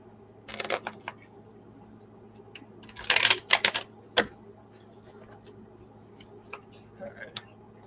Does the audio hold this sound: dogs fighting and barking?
no